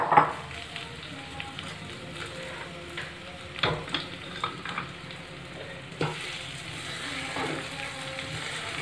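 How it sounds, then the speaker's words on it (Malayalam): Taro (chembu) pieces frying in hot oil for Thrissur-style upperi, a steady close sizzle with a few scraping stirs in the pan and no talk. "ചേമ്പ് നമ്മൾ ഇതിലേക്ക് ഇടാൻ പോണം."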